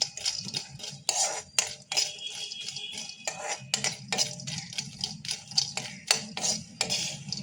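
Pea-lentil bori (dried dumplings) frying in a pan, stirred with metal clinks and scrapes against the pan over a soft sizzle, with repeated close taps throughout and no talk.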